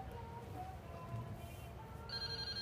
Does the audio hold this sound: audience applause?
no